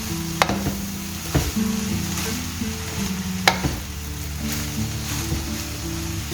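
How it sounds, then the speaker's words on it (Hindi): Egg fried rice is mixed in a hot pan after a splash of white vinegar, giving a steady close sizzle with scraping stirs and a few sharp utensil clicks, no voices. "अब इसको अच्छी तरह आप मिक्स कर लीजिए।"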